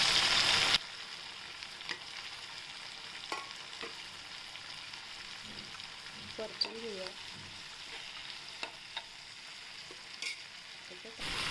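Ginger garlic paste sautés in a pan with a soft, steady sizzle, punctuated by occasional light taps of a stirring spoon and a faint voice in the background.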